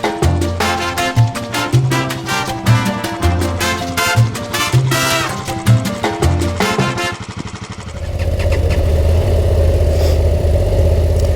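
A Honda Transalp 750 motorcycle idles outdoors at an adventure bike festival. Its steady low engine rumble takes over after several seconds of rhythmic, beat-like thumps and continues evenly to the end.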